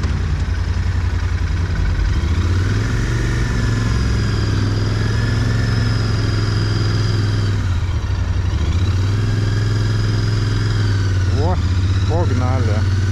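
Royal Enfield Interceptor 650 motorcycle being ridden, its engine producing a steady loud low drone with a constant throbbing tone and brief revs near the end, while someone talks over it.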